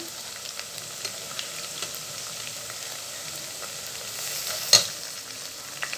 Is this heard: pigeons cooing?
no